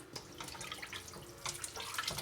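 Tap water pours steadily into a pan of chicken for a curry, about a pint (500 ml) to cover the meat, a close, continuous splashing rush with no voices.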